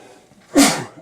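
A single sudden human sneeze, close and fairly loud, bursting out after a moment of near quiet and trailing off briefly.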